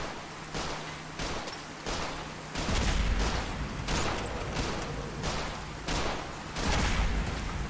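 Repeated bursts of laser musket fire in Fallout 4, sharp crackling discharges and thumping impacts spaced roughly every half second to second, loud and close, with no voices.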